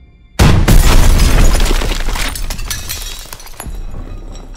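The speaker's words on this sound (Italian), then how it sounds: "Occhio all'esplosione." Loud explosion in the WWII shooter Call of Duty: WWII bursts suddenly with a heavy boom and shattering debris, then a long rumbling decay that slowly fades over several seconds, with no voices.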